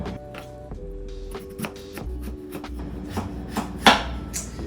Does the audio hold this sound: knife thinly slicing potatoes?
yes